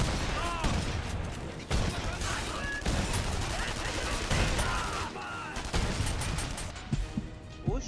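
Gunfire from the video game The Saboteur: rapid bursts and repeated loud shots crackle through the whole stretch, with rooftop shooters firing alongside, dense and close with occasional heavier booms.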